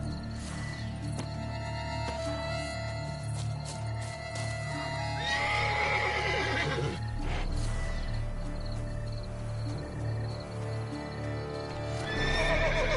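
A horse in The Witcher 3 video game gives a loud neigh and whinnies over a clip-clop of hooves, with crickets and game music droning in the background.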